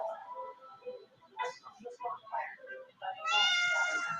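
A house cat gives a run of short meows close by, ending in a longer, higher-pitched drawn-out meow, with no other voices.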